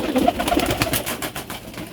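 Racing pigeons coo steadily and close, soft repeated throaty calls overlapping through the whole stretch with a little rustling around them.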